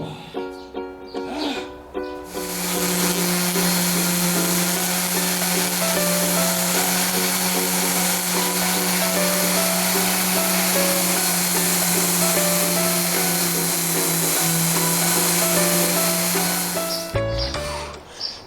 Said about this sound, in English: Let's get out the sander and see if we can liven it up.